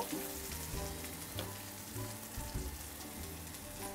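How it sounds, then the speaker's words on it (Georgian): Continuous crackling sizzle of mushrooms frying in hot oil in a pan, steady and close, with faint clatter underneath and no voices. "და მეორე ტაფაზე შევწვათ სოკო"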